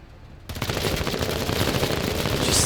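Small arms gunfire in a video game, a dense burst of rapid overlapping shots that starts abruptly after a brief quiet moment and stays loud to the end.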